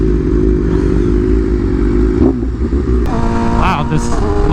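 A BMW M1000RR motorcycle rides through a canyon on freshly paved road, its engine droning loud and close with wind rush, and the pitch rises in short revving sweeps near the end.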